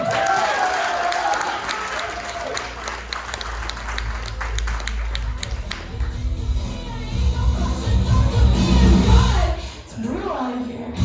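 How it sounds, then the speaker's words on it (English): A comedy club audience at a college stand-up show applauds a comedian coming to the stage, with steady clapping, a few whoops and cheers, and voices over it, swelling louder near the end. "Please give a warm round of applause to Matt Hein."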